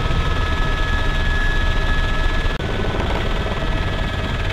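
Helicopter in the Arma 3 video game, a steady loud rotor and engine drone with broad low rumble that holds throughout, with one brief dropout partway.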